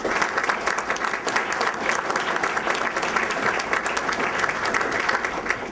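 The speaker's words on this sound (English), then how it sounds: "I would like for them to stand and receive our applause" Sustained audience applause for standing university professors at a merit awards ceremony, many hands clapping in an even, loud, continuous roar throughout.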